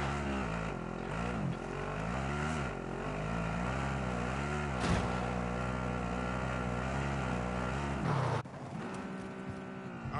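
A vehicle driven in the video game MW, its engine a steady, loud drone with shifting harmonic pitch that rises and falls, continuous throughout, changing character near the end.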